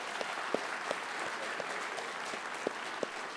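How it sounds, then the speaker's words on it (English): Applause at a 2024 high school graduation ceremony, a faint, distant, continuous wash of clapping in a large venue with a few sharper hand claps standing out. "Let's get a round of applause for all the wonderful staff."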